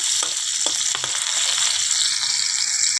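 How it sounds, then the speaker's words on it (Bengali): Bitter gourd and other vegetables frying in oil, a loud, continuous bright sizzle close by, with a few soft taps of a spatula against the pan and no talking. "বাদ বাকিগুলো ভাজছি, চলো দেখি। দেখো, এটাও উচ্ছাটাও ভেজে নিচ্ছি।"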